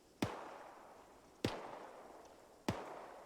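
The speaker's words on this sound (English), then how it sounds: "AK fire" Three sharp, separate AK rifle shots in ArmA 3, spaced roughly a second and a quarter apart, each a loud crack with a short decaying tail, alone without talk.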